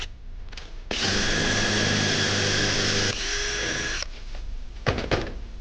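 An electric drill fitted with a thick bit whirs steadily at close range for about three seconds, then keeps running at a slightly different pitch before stopping, with clanks of handling in a repair shop afterwards.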